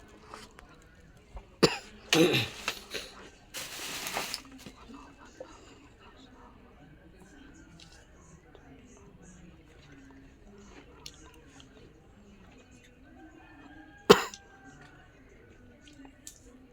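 A few sharp coughs early on, then a lone cough later, with faint background noise and murmuring in between.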